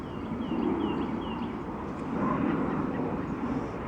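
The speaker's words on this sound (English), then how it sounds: "here comes an airplane" A distant airplane drones steadily overhead as a low broad rumble, with faint bird calls faintly audible in the background.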